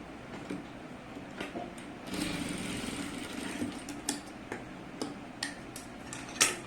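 A sewing machine stitching cloth during tailoring, a steady mechanical whir with regular ticking clicks, close and moderately loud, running alone without talk.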